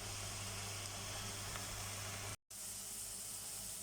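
Spinach with dried shrimp frying in a pan, a steady broadband hiss and sizzle with a low hum beneath, close and even throughout, with a brief dropout to silence partway through.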